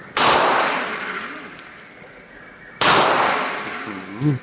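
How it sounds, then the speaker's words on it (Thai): Two loud, sharp gunshots from a Sig Sauer P365 pistol ring out about two and a half seconds apart at a shooting range, each leaving a long ringing decay with faint metallic clinks between them. "เริ่มด้วยตัวน้องครับซิกสามหกห้านะครับ เข้าดี ดูดูกระสุนกระเด็นครับ"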